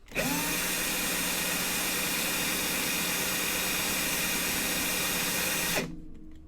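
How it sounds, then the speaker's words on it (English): A power drill twisting four strands of 28 gauge vape coil wire whines at full speed for several seconds in one steady continuous run, loud and close, then cuts off abruptly. "Just put some tension on it and just twist it with your drill."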